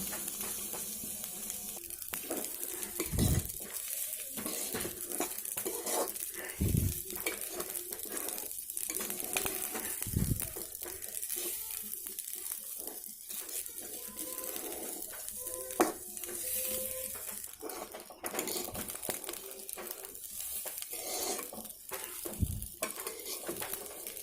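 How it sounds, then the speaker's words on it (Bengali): Rice and lentils being stir-fried in spiced oil in a pot for egg khichuri, a continuous sizzle punctuated by repeated scraping knocks of a spoon against the pot. "এবার চাল আর ডালটা দিয়ে খুব সুন্দর করে আমি ভেজে নেব।"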